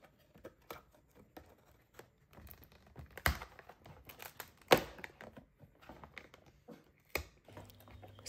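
Opening a paper advent calendar window, with quiet crinkling and tearing of paper in short bursts and scattered taps close by, and no talk.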